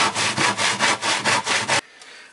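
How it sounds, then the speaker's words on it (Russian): A sharpened hand saw cutting through wood with about eight rhythmic back-and-forth strokes, loud and close, then stopping abruptly into near silence. "Ножовку немножко подзажимает."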